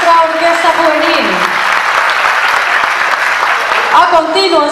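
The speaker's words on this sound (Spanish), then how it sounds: "un aplauso para nuestra orquesta juvenil" An audience applauds a youth orchestra at a school concert, dense loud clapping that runs steadily for several seconds while an announcer's voice rises over it at the start and end.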